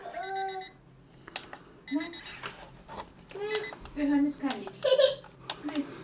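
Default alarm tone of a Sony PlayStation One alarm clock with ceiling projector: short repeated electronic beeping bursts that start and stop in clusters, close and fairly clear, with a voice and an adult talking over and between them.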